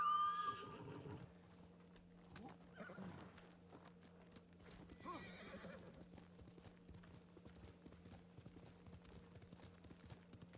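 A horse in the video game Ghost of Tsushima neighs loudly at the start, then hooves clip-clop at a steady walking pace over a faint background hum, with a few more soft whinnies.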